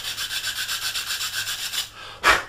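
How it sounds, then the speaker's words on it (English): A flat sanding stick rubs back and forth over a Hobby Boss 1/48 A-10A plastic model kit part in quick, even rasping strokes, close and clear, ending with one sharper scrape. "So sanding stick, nice and flat, just give it a rub"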